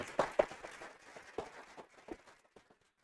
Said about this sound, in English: one last round of applause to our researchers.